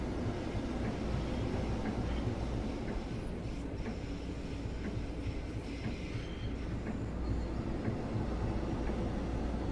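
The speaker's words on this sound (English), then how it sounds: "So as we were switching tracks, the train was not getting power from the third rail, and you heard it on the fans." Long Island Rail Road electric train in Train Sim World 4 switching tracks and losing third-rail power, cabin fans dropping out: a steady low rumble of wheels on rail with faint clicking joints, heard from inside at moderate, even volume.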